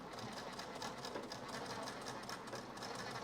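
A sewing machine stitching blouse fabric, running in a quiet, steady rapid rhythmic whir of needle strokes throughout, with no speech.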